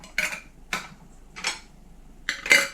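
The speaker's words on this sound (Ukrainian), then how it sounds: "Тепер прикриваю кришками," Four sharp clinks of screw-type metal lids set loosely on glass jars of home-canned fish, spaced unevenly and close by, with near silence between them.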